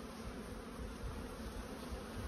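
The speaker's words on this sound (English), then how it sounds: "can you hold this hive just like this?" Honeybees buzz around a beehive that has been lifted off its base, a dense, steady swarm hum that stays close and loud throughout with no pauses.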